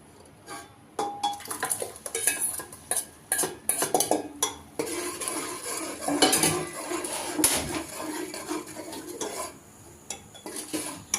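A spoon stirs and scrapes a tadka of onion, garlic and green chilli in a metal pan for an aloo pakora curry, giving irregular close clinks and scrapes with a faint sizzle between strokes.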